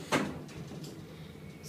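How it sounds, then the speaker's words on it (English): A sliding elevator door closes on a modernized Otis traction elevator aboard the Queen of Surrey ferry, a single soft thud and a short glide over quiet cabin hum. "The door close button works occasionally."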